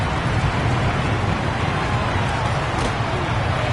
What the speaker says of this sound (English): Not sure if the rain and the wet footing is an issue there